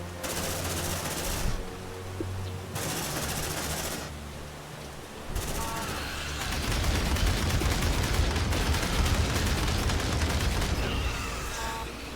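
Sustained rifle fire from marines in Aliens Dark Descent, a loud continuous rattle of shots with brief breaks before a long, heavier stretch of overlapping gunfire.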